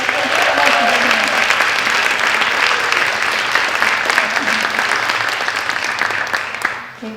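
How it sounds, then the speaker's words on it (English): Sustained audience applause for sports panelists at a Westminster event, loud continuous clapping from a large crowd that tapers off at the end. "Let's give another round of applause for our amazing panelists."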